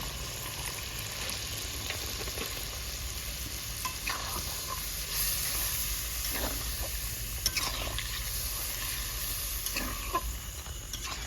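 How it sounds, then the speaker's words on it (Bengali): Hot pan of fruit chicken with pineapple, raw and ripe mango, as water goes in: continuous soft sizzling and bubbling with occasional stirring scrapes, fairly quiet and close, no talking. "এখানে জল দিয়ে দেবো বেশি জল দেবো না"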